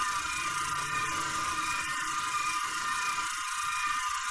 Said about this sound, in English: We've now got a little construction bay with some terrifying drones